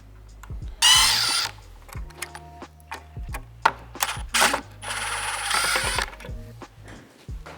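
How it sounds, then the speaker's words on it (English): A 2.5mm Allen key works the screws off the bottom of an Apollo Phantom 2.0 electric scooter fender, making close metallic ratcheting, scraping and clinking in uneven bursts with short pauses between. "I'm going to be removing all the screws at the bottom of the fender."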